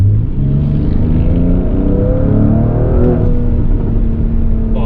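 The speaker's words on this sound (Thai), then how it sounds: "มีเสียงท่อให้สนุกสนานได้อีกนะครับ" Mercedes-AMG GLC43 4Matic Coupe facelift in Sport Plus mode accelerating hard, its loud, steady exhaust note rising and holding close for about five seconds with no talk.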